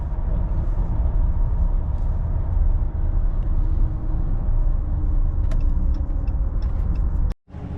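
Steady, close engine rumble from a 2021 Ram 1500 pickup with a 5.7 Hemi V8 hauling a load of walnut and hickory wood, held at moderate throttle, droning continuously before a sudden brief dropout near the end.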